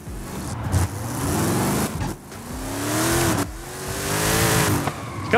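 Lightweight 1100 HP, 7-litre V8 rear-drive drag car on drag tyres accelerates hard, roaring up through rising revs in three loud surges with brief breaks between, close by and with some tyre squeal.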